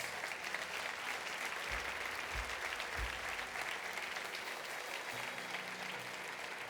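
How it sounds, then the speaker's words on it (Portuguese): A church congregation gives a loud, sustained round of applause during a Portuguese-language service, a dense steady wash of clapping from start to finish with a few low thumps near the beginning. "Você pode dar ao Senhor mais um forte aplauso por cada um deles."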